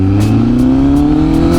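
A 2025 Honda CBR1000RR-R Fireblade SP motorcycle with a full exhaust and reflashed tune, its engine running close by with a steady low drone that slowly rises in pitch as it revs.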